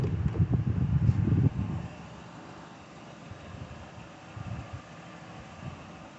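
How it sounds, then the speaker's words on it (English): A 2009 Ford Crown Victoria Police Interceptor engine idles with a low, steady rumble, louder at first and then settling into a quieter, even hum. "vehicle is on, so you can actually hear the engine."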